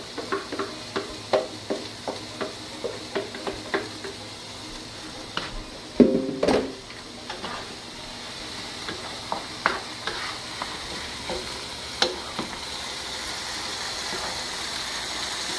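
A tofu scramble simmers in a covered pot, a soft steady bubbling hiss broken by a series of light taps and stirring clicks, with one louder clatter partway through.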